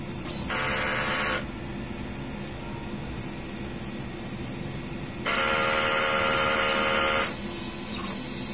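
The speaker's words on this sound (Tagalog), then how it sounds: "Pindutin lang ang clean, normal, heads." A DTF printer runs a head clean, giving a steady mechanical hum broken by two louder high whirring bursts as the pump and heads cycle, with no voices.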